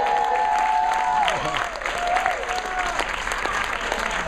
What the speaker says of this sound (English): So let's give Tanya and Barbara a round of applause